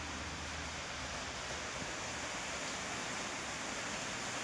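Rainwater leaking and flowing into a house during a downpour makes a steady, even wash of hiss and rushing water throughout, faint and continuous with no talk over it.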